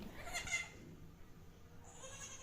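Young goat kids bottle-fed Nestlé Lactogen Pro 1 milk formula let out a couple of short, faint bleats close together early on, then the scene falls quiet.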